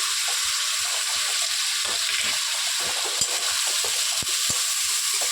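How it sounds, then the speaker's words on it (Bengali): Ground spices (turmeric, salt, cumin and coriander powder) fry in a pan for an egg-fritter and potato curry, a steady close hiss with occasional light clicks of stirring and no talking. "এবার ভালোভাবে কষিয়ে নিতে হবে।"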